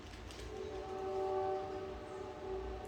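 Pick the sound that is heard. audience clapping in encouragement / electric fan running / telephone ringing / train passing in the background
train passing in the background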